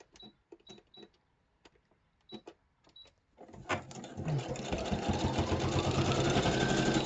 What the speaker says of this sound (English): Let me just sew this up.